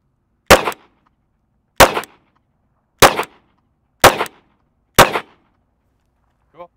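Five loud, sharp gunshots are fired at soft body armor and a ballistic shield at a steady spacing of about a second or more, each a hard crack with a short tail, followed by a faint clink.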